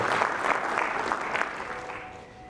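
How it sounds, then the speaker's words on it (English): Audience applause for Dr. Kavit Desai at a 50th anniversary celebration, a steady wash of clapping that fades gradually toward the end. "A round of applause for Dr."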